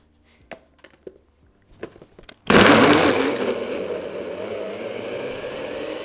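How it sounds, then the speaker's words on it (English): A few soft clicks and taps, then a blender blending herb butter roars on loudly nearby and keeps whirring steadily, easing slightly in pitch. "we're literally just going to blend that so it all comes together in the blender"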